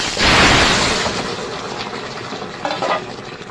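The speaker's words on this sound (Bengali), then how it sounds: "এবার এই তরকারিটা আমি ঢেলে দেবো।" Curry is poured into hot oil with cumin seeds in a wok, opening with a loud rushing splash that settles into a steady, close sizzle with no voices.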